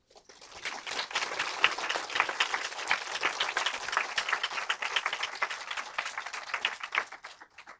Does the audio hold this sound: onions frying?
no